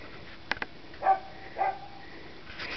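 A rottweiler puppy gives a couple of short, soft barks at a moderate distance, with faint clicks and a quiet room in the background.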